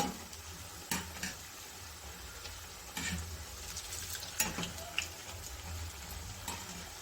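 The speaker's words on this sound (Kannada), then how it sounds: "ಒಂದು ಕಡೆ ಆದಮೇಲೆ ಎರಡು ಕಡೆಯೂ ಚೆನ್ನಾಗಿ ತಿರುಗಿಸಿ ಗೋಲ್ಡನ್ ಬ್ರೌನ್ ಬರೋವರೆಗೂ ಫ್ರೈ ಮಾಡ್ಕೋಬೇಕು" Onion pakoda frying in oil on a medium flame, a quiet steady sizzle and bubbling broken by a few sharp clinks and scrapes of turning the fritters.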